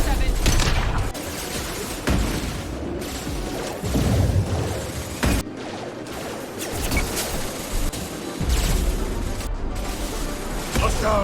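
Combat gunfire in Mass Effect 2, loud bursts and single shots mixed with mechanical clanks, a few heavy impacts and game voices, busy and close throughout.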